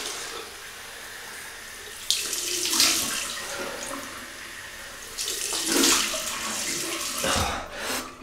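Cold water from a sink tap during a wet shave, a soft steady hiss that swells in two louder bursts as the flow or hands change, with light splashing and no talk.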